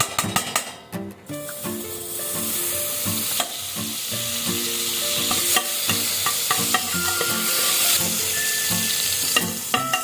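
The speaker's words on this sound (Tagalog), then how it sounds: "Sa isang kaserola, maglalagay tayo ng star margarine." Steady sizzling of margarine melting in a hot pot over low heat, with occasional clicks and scrapes from stirring, continuous and close.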